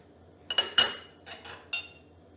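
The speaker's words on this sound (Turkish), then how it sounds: "Hızlıca karıştırıyorum. İçindeki çikolata ve tereyağı eriyene kadar karıştıracağım." A metal spoon clinks several times against a pot while stirring melting chocolate and butter on a switched-off stove, sharp short chimes spaced irregularly in a quiet kitchen.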